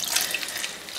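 Excess water carrying leftover black food-coloring dye is poured off wool-type yarn fiber, a steady close hiss of running, splashing liquid with no talk.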